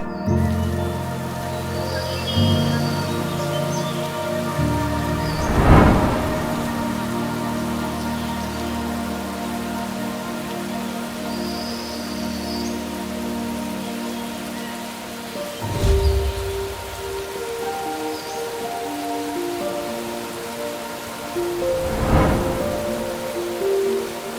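Steady rain patters through a forest canopy overhead, with occasional louder bursts of drips and gusts, and a low rumble underneath; no voices.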